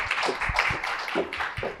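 Clapping welcomes Pastor Lee Sang-won to the podium at a Christian lecture gathering, a short burst of fairly sparse, distinct hand claps with an uneven rhythm, close and moderately loud.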